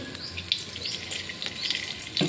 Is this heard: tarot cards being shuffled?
no